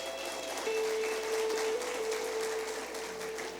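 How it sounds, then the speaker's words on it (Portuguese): Faint, distant church congregation applause during an Easter service, a steady patter of clapping with a thin sustained tone running underneath. "Uma salva de palmas para eles"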